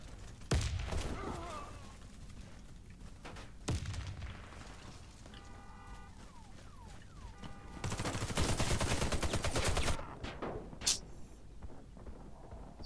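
Gunfire rattles through a team deathmatch in Warface on PS4: scattered single shots and sharp pops, then a sustained loud automatic burst of rapid shots before tapering into a few more distant cracks.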